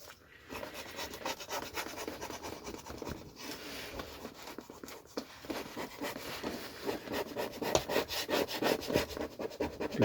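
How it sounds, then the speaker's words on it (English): Sandpaper rubbing back the soft, worn surface of a wooden fishing pole roller, a steady rough scraping kept up for about ten seconds in rapid strokes with no talking. "I've just rubbed it with some sandpaper to try to get back to some wood."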